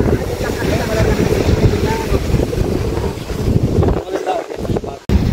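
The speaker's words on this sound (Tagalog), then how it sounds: "Malakas na ng hangin" Strong wind roars steadily against the microphone at Pagudpud Beach, Ilocos Norte, Philippines, with surf and the drone of open sea beneath it, and a faint voice or two in the background.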